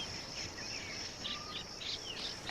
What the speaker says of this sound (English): I hear insects.